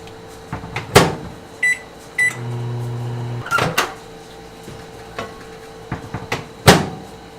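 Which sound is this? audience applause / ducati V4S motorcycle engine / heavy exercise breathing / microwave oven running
microwave oven running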